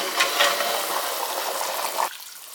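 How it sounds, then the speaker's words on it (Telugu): Water heats in a pot for country chicken biryani, giving a steady hissing, bubbling rush up close that cuts off abruptly near the end, with no talking. "ఎసురు బాగా తెరిలిపోయిందండి."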